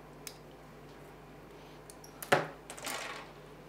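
Nippers cut a Gunpla plastic part from its runner in a single sharp close snip, followed by faint plastic rattling as the piece is handled, with quiet room tone around it and no voices.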